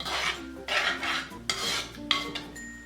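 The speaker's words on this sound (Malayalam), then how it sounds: "ഇതെല്ലാം കൂട്ടിയിട്ടൊന്ന് മിക്സ് ചെയ്ത് കൊടുക്കാം." Prawn mixture stirred in a pan for Chemmeen Ularthiyathu: a close, soft scraping and rubbing of a utensil against the pan in several quick strokes, with faint clinks.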